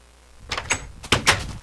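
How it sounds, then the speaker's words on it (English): A wooden door in the Minecraft video game swings shut with a latch sound, heard as two short clicking knocks in quick succession, close and fairly loud. "Oh yeah, that's a new door sound."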